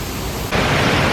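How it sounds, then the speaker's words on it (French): A waterfall swollen with water after rain, a steady, loud broadband rush that grows fuller and stronger halfway through, with no other sounds. "c'est parce qu'il a plu qu'on a des belles cascades plein d'eau"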